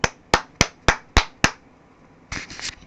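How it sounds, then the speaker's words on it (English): One person claps hands six times in an even, slow rhythm, crisp and close, then a few softer, quicker claps follow after a pause. "Shall I clap for you? I will."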